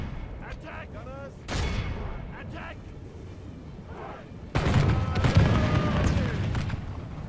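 Artillery in a Warhammer battle game fires on trolls, heavy booming blasts with a loud burst late on, over a constant din of battle noise.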